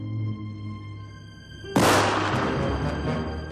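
A single sharp gunshot in an animated Little Red Riding Hood cartoon, a sudden loud broadband crack that rings out over a quiet music bed and decays slowly.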